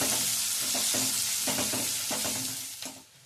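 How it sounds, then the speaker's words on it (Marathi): Finely chopped onion fries in a pan with cumin and turmeric: a constant close sizzle broken by regular scraping stirs, fading slightly near the end. No talking. "यामध्ये एक बारीक चिरलेला कांदा घालणार आहोत. कांदा व्यवस्थित परतून घ्यायचा आहे."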